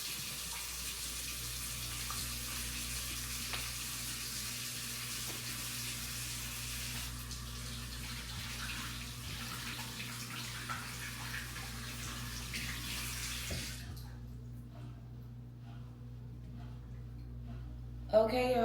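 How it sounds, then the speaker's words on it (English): Tap water runs steadily into a pot while dusty potatoes are washed, a constant close rush that stops abruptly near the end, followed by a brief knock. "we're going to wash these potatoes because they look dusty"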